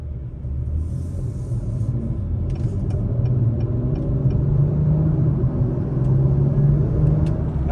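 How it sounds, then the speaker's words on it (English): Inside a 2021 Acura Type S with a turbo engine driving at night, a steady deep road rumble builds slightly in loudness with faint clicks overhead, heard from the cabin with no speech. "I can hear that turbo spooling up, which is awesome."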